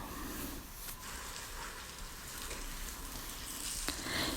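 Eggs and chopped beans for a poriyal fry in a pan, a soft, even hiss of sizzling running throughout with faint stirring, fairly quiet and with no voices.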